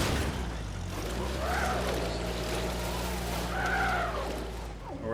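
A vehicle in the video game Uncharted: The Lost Legacy drives with a steady engine drone, tires squealing in two rising-and-falling skids over a continuous low rumble.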